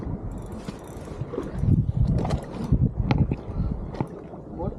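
A fishing boat moves on the sea off Malvan, with a choppy rumble of hull and water mixed with clanks and creaks, and faint voices at times.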